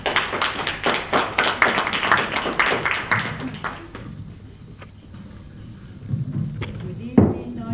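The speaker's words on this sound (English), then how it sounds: "Please give a round of applause." A small audience at an event claps for a few seconds, distinct close hand claps that fade out midway, followed by quiet room sounds and a thump.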